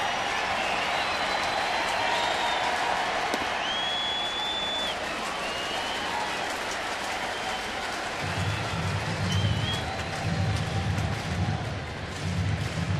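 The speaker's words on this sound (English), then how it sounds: "Finally, the crowd coming alive a little bit." A baseball stadium crowd at a Cardinals home game against the Astros gives a distant, steady roar of cheering and applause that swells slightly toward the end.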